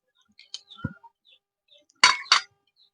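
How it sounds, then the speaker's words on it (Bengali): A karai wok set down on a stove gives a few small clinks, then two sharp metallic clangs close together, in an otherwise quiet kitchen. "কড়াটা বসিয়ে দেব।"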